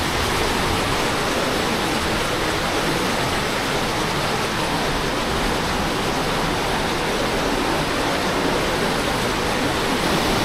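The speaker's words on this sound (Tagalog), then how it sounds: "Galit na galit ang Wawa Dam." Rushing water pours over Wawa Dam in a loud, steady, unbroken roar of white noise that fills the whole span with no talk over it.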